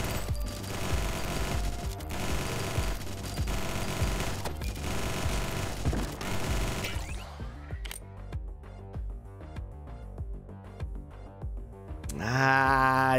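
A modified assault rifle in the video game Nimrods: Guncraft Survival fires a long, loud, rapid automatic burst, then gives way to sharper scattered shots and clanks, ending in a whooshing flame-like roar.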